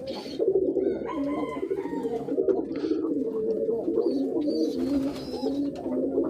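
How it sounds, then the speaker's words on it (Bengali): A wild pigeon coos continuously in low, rolling throaty notes, close by, with faint higher chirps from other birds in the background. "এই যে বুনো কবুতরটা দেখেন বুনো কবুতর"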